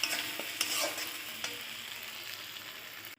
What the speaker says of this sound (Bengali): কাজু পোস্ত বাটাটা দিয়ে একটু কষাতে হবে।